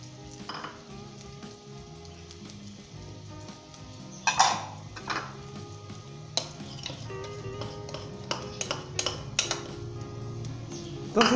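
Lahori dal with spices and fried onions stirred in a pot, a low steady sizzle under scattered clinks and scrapes of a spoon against metal that grow more frequent toward the end, with no one talking.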